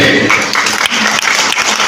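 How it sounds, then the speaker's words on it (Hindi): Loud applause from parents at a parenting workshop held at Ali Public School in Tumkur: close, dense clapping that keeps going steadily with a few brief dips. "इनके लिए जोरदार ताली दीजिए"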